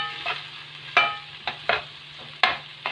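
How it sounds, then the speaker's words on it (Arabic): Okra being stirred with peppers and onions in a pan, soft sizzling with several scraping stirs and knocks of the utensil, irregularly spaced, over a faint low hum. "نلفها مع الفلفل والبصل."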